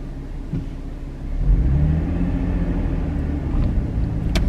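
A Camaro with a manual clutch pulls away, its engine rumbling low and rising into a steady revving drone as the car moves off, heard from inside at close range with no talking.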